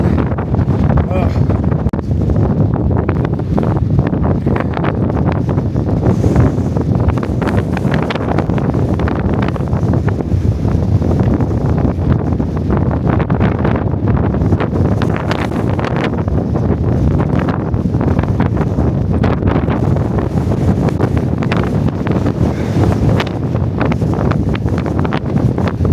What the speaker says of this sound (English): Wind blowing sideways.